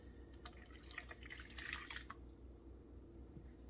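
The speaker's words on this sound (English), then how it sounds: "I'm going to add 1/2 cup of warm water." Half a cup of warm water poured into crepe batter in a kitchen, a soft, steady trickle with light splashing, close and quiet over low background hum.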